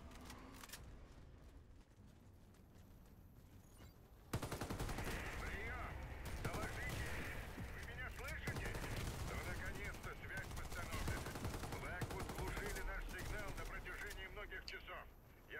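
Tavor TAR-21 assault rifle gunfire from the Warface shooter game, played against bots. Dense, rapid bursts crackle almost continuously after a quieter start, with a voice talking over the shots.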